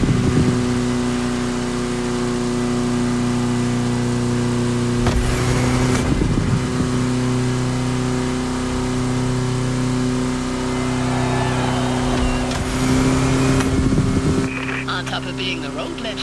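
Several Volkswagen Kombi vans race in The Crew Motorfest, their engines droning steadily with shifting pitch and bursts of revving, loud and continuous, with brief whooshes as cars pass.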